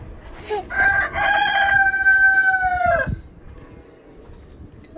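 A rooster crows loudly and close by on a chicken farm in a long drawn-out call, with chickens clucking faintly in the background.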